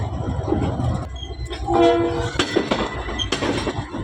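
The locomotive of the Sir Syed Express, running from Karachi to Faisalabad, sounds a short tonal horn blast over rumbling rail noise and clanks at a station.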